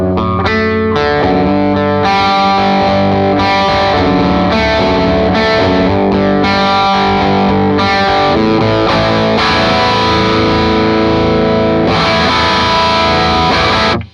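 An electric guitar roars through a heavily overdriven Mark Sampson era Bad Cat Hot Cat amp, playing sustained distorted chords and riffs continuously at full volume, with no speech.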